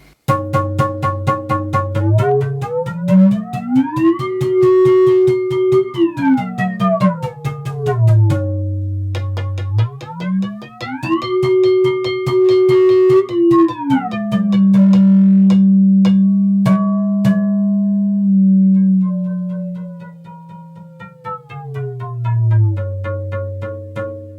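A buzzy modular synthesizer tone, swept by an expression pedal, glides smoothly up and down in pitch, holding notes between slow sweeps, loud and alone.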